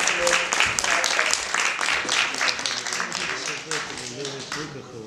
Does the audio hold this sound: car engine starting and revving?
no